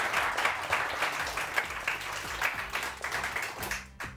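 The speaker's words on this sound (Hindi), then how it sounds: "रानी के लिए बहुत सारी तालियां" Studio audience applause on a Pakistani morning show, a steady dense patter of many hands clapping throughout, fairly loud, with a brief dip near the end.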